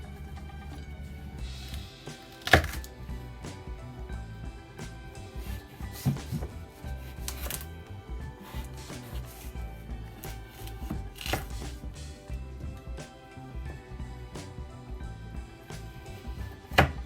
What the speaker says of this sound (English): And you cut these into strips.